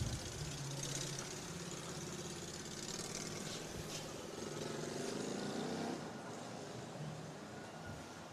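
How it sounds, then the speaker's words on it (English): An engine revving somewhere behind an Australian Open tennis semi-final: a continuous broad rumbling engine drone with a slight rise and fall, sitting steadily in the background with no voices. "Bit of a rev behind us."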